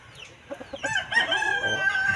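A red rooster crows once loudly and close, preceded by a few short clucks, in a brief clip with no talking.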